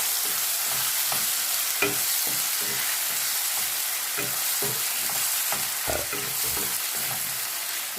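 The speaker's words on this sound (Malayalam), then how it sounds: "വെളിച്ചെണ്ണ അടുപ്പത്ത് വെച്ച് ചൂടായിട്ടുണ്ട്. ഇതിലേക്ക് ഇതാ മുളക് അരട്ടി വെച്ച ഈ ഇറച്ചി ഇതിലേക്ക് ഇട്ട് കൊടുക്കുക." Meat marinated in chili paste frying in hot coconut oil: a loud, continuous close sizzle broken by repeated clattering stirs and scrapes in the pan throughout, with no speech.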